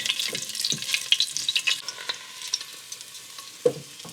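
Garlic and bay leaf frying in a heated pan: a steady close sizzle broken by several sharp clacks of stirring, with a louder knock near the end.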